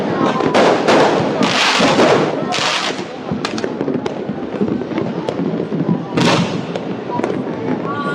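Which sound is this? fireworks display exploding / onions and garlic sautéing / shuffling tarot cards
fireworks display exploding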